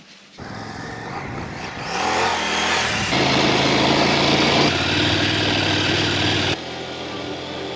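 A motorbike engine runs close by at a steady idle, its rough broadband drone rising after a couple of seconds and holding, then dropping slightly near the end; no voices.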